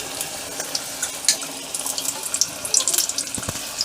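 Onion bhaji batter sizzling in hot oil, a steady close crackle of small pops and hiss with no voices.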